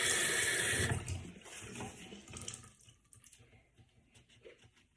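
Warm water runs from a tap onto a paper towel during an ostomy bag change: a loud, close gush for about a second that then shuts off, followed by quiet handling sounds.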